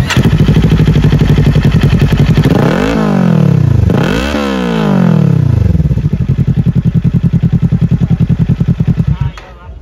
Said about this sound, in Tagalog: Sound check Yoshimura exhaust Z400.